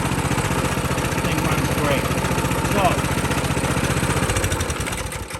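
Honda CT200U motorcycle engine running after being revived, a steady close loud single-cylinder putter throughout that eases off near the end, with someone talking over it.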